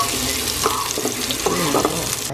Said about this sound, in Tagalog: Nagka-fry ako ng konting bawang at sibuyas para mas may lasa naman yung pasta ko.